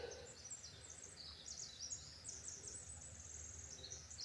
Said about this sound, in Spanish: No sé si escuchen el ruido de los pájaros.